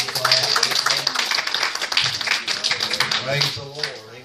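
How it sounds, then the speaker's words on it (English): A church congregation claps their hands together in a busy, sustained burst of applause, with voices murmuring and calling out beneath the clapping. "big hand clap"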